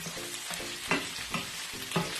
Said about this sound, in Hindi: अब इसमें चॉप जिंजर गार्लिक डाल रही हूँ